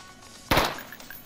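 A single sharp, loud gunshot in the tactical shooter game Intravenous cracks once and decays quickly, standing alone against a quiet background.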